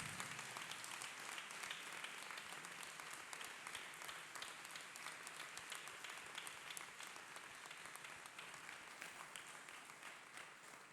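A church congregation claps hands for Jesus in a steady, dense burst of applause that fills the room at a constant level throughout, with no clear voices standing out.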